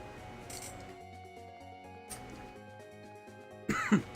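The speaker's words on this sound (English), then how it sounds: "Sorry, a bit of a coughing fit." Someone still getting over a cold coughs while playing Recettear: An Item Shop's Adventure. Soft game music plays for several seconds, then a short, sharp burst of coughing and throat clearing comes close to the mic at the very end.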